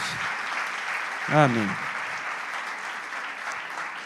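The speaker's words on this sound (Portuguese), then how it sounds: "A igreja quer dar um aplauso a Jesus em favor da vida dos irmãos." Church congregation applauding during a celebration service, a broad, steady wash of clapping throughout, with a brief spoken word from one voice partway through.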